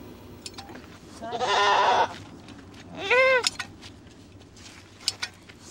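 A goat in the Moroccan desert lets out two loud, wavering bleats about a second apart, the second higher and shorter, over a quiet outdoor background with faint clicks.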